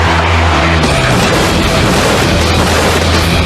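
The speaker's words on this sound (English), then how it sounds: "The 2 cars collide and their tires meet." Two race cars colliding and crashing, one tumbling and hitting the safety fence, as a loud, dense burst of impact noise that holds steady throughout.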